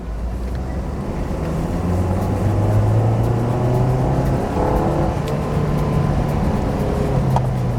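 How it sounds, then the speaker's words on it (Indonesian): A used 1500 cc family car accelerates hard from second gear starting around 1100 rpm, engine drone climbing steadily in pitch through a gear change, recorded from inside the cabin, continuous and prominent with no talk. "Nah, kali ini saya ingin mencoba mobil ini bagaimana akselerasi dan tenaganya."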